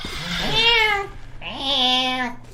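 Two long, drawn-out cat meows in a horror video game, loud and close, each rising and then falling in pitch, with a short pause between them.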